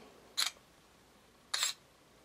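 The iPhone camera app fires its shutter twice, two short crisp clicks about a second apart over near silence.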